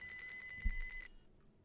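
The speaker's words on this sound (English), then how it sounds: "Oh, that's the phone again." A telephone rings in the video game Normal Fishing, a short burst of rapid trilling bell pulses lasting about a second, then cutting off into quiet, with a soft thud partway through.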